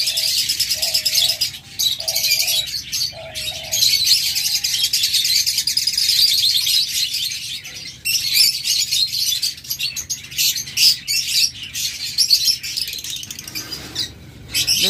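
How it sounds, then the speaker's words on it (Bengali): Diamond doves give a short series of soft, repeated coos, set against a dense, steady backdrop of chirping and tweeting from many small caged birds nearby. "দেখুন ডায়মন্ড ডাব কেমন ডাকে, এই ডাকের জন্য ডায়মন্ড ডাব বিখ্যাত।"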